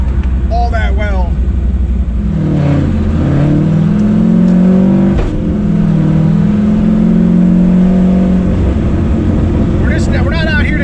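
A turbocharged 363 stroker car engine pulls at wide open throttle, a loud, close, rising drone that climbs in pitch, dips briefly at a shift, then climbs again, with a few spoken words near the start and end.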